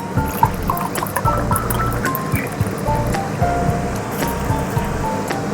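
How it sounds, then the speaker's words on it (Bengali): Hot water is poured into a pot of rice for a one-pot vegetarian meal, a continuous close gushing and splashing that runs steadily for several seconds, fairly loud and without talk. "তার জন্য আমি 5 কাপ জল দেবো।"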